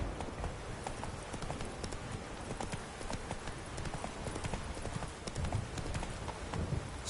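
The horse Roach trots in The Witcher 3: Wild Hunt, hooves clip-clopping in a steady, rapid rhythm over ambient game noise, moderately loud and close throughout.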